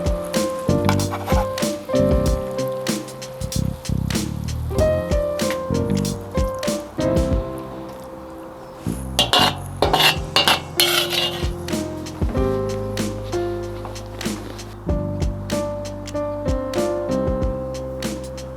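Utensils clink and scrape against a dish while slow-braised, three-hour shredded beef is scooped and served, a busy run of metallic taps and soft squishy sounds with background music throughout.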